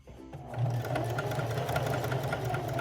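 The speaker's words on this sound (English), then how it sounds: "So I did about 2 or 3 stitches back and 2 or 3 stitches forward." A sewing machine stitches a first seam, running a few stitches backward and then forward, a steady close mechanical whir with a rapid needle rhythm after a brief start-up.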